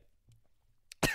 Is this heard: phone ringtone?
no